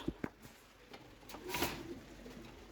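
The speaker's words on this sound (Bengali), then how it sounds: "এইদিকে এক পেয়ার কবুতর" Soft pigeon cooing rises and falls faintly in a quiet space, with a few light taps and rustles around it.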